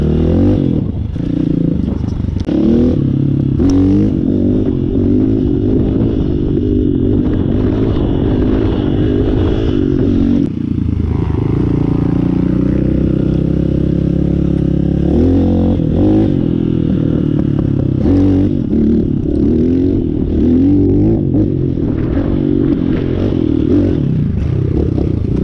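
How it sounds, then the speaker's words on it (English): An Apollo Thunder 300cc motorcycle engine runs continuously with uneven revving and rough mechanical clatter, rising and falling over about twenty-five seconds close to the listener, with no talking. "Let's try and give it a lift up."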